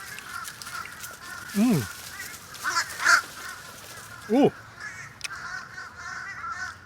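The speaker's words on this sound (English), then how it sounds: "There's a swarm of crows right next to me." Crows gathered in a large flock beside a plate of steamed broccoli and carrots in Hawaii caw in loud, close, separate calls over steady outdoor background noise, with a brief exclamation from a person.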